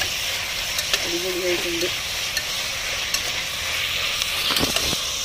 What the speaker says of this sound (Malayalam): ഓക്കെ, നമുക്ക് നന്നായിട്ടിത് വഴറ്റാം